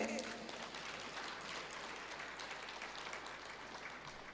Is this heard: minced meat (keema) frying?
no